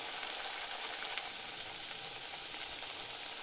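Grated raw potato and sabudana vadas frying in oil over a low gas flame, giving a steady, even sizzle throughout with one brief sharp tick, no voices.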